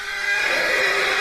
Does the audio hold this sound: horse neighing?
yes